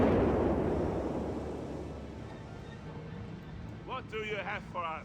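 Artillery shells from an in-game barrage in Company of Heroes 3 explode in a deep, rumbling wash that fades slowly. Toward the end an excited commentator speaks over the dying roar.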